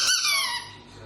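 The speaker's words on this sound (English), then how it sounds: "This bloody squeaky thing." A single high, wheezy squeak from a rubber dog toy, loud and close, fading out quickly.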